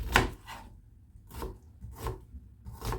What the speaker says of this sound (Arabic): بصل ثرم ناعم